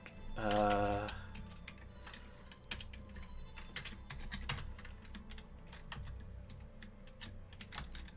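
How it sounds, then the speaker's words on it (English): Rapid clicking keystrokes on a computer keyboard, close and steady, after a short tonal beep at the start. "I think I need to start typing this out."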